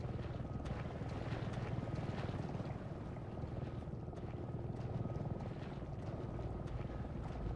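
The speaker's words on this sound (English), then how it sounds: "That sounds like... helicopter!" A helicopter in the video game Resident Evil 7 flies steadily nearby, its dense rotor thrum and engine roar filling the scene at a constant, loud level with no pauses.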